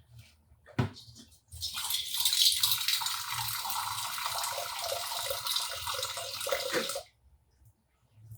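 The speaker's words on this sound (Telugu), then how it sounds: "కొంచెం నీళ్లు పోస్తానండి దీంట్లో." Water pours into a pot of tamarind curry with drumsticks in a strong, continuous gushing stream lasting several seconds before cutting off, close by, with a clink just before it starts.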